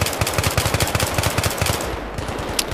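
Rapid automatic gunfire in the video game Battlefield 3, a steady loud machine-gun rattle of evenly spaced shots that runs for most of the moment before cutting off near the end.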